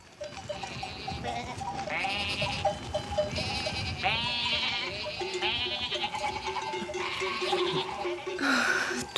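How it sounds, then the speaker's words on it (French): Sheep bleat in a flock, with several overlapping calls of varied pitch following one another over a steady background, some close and loud, others farther off. "Tous ces moutons se ressemblent."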